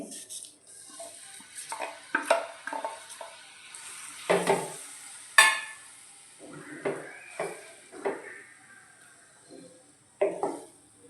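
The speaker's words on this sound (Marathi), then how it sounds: "कढईमध्ये एक चमचा तूप टाकून घेतला आहे आपण बारीक केलेली केळी टाकून घ्यायची" Mashed banana sizzles softly in a pan of hot ghee while a spoon stirs and scrapes repeatedly, with occasional metallic clinks close by.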